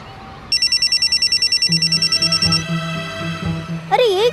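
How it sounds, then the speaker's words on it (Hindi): A telephone rings with a rapid, repeating electronic trill, followed by brief talk underneath and a rising warbling tone at the end. "अरे ये किसका फोन आया?"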